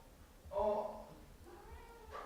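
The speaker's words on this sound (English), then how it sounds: "What are you protesting about? You're a cat." A cat meows in protest indoors, one strong meow followed by a fainter drawn-out one, close but fairly quiet.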